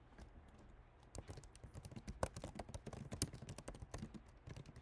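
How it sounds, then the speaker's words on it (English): Computer keys clatter in quick irregular bursts at close range, fairly quiet overall, with a few sharper louder keystrokes standing out. "I'm sure the typing's really loud,"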